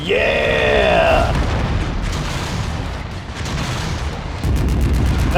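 A big gun fires in MechWarrior 5: Mercenaries, giving heavy booming blasts and a rumbling roar; a short tonal voice-like sound opens it before the loud, dense firing noise takes over.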